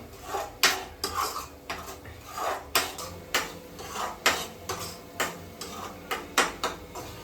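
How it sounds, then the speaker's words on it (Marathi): Fresh ground masala paste being sautéed in oil in a pan over a low flame, heard as a steady rhythm of spoon scrapes and clinks against the metal pan with little sizzle. "आता हे छान परतून घेऊ आपण तेलावरती"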